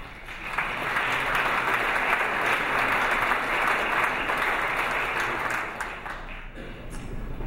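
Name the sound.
conference audience applause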